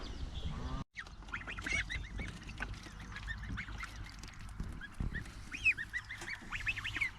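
A flock of geese, young goslings among them, honks and chatters in a repeated nasal chorus close by, with a brief silent gap early on and no talk.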